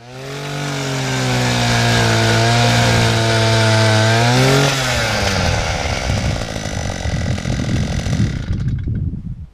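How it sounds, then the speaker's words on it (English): Power auger drilling a post hole, a loud close motor drone that labors and shifts pitch midway, then churns roughly through soil before cutting off. "That's the first time I've ever used auger"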